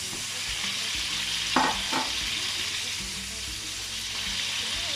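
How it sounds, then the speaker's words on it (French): Gizzards, onions and ginger fry in a pan with a steady, even sizzle, broken by a couple of brief scraping stirs near the middle, close and moderately loud with no talking. "Et là, dans l'autre poêle, je vais mettre le gésier et les oignons et le gingembre."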